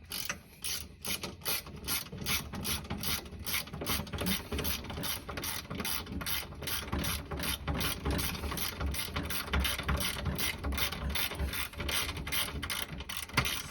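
A bolt being spun out by hand while installing AirLift 1000 air suspension on a Honda Fit, giving a steady run of close, rapid ratcheting mechanical clicks that continues throughout with no talk.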